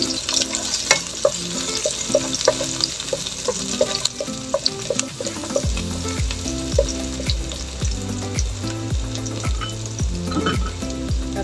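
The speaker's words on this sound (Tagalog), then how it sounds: "at tinuna natin ang bawang. Maraming bawang." Plenty of garlic sautéing in a pan, a continuous crackling sizzle broken by frequent clicks and scrapes from stirring, moderately loud and close, with no voices.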